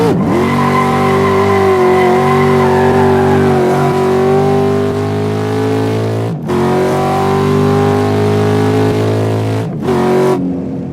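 A turbine-powered race car accelerates hard through the gears at 70% turbine, its loud, close whine climbing in pitch and then breaking off at each of two clean gear shifts, with no voices.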